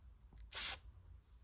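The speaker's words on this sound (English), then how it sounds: "spray paint it sort of like this." A spray paint can lets out one short, loud hissing burst of about a quarter second, close up, in an otherwise quiet room, applied in small spritzes to an arm guard spark shield.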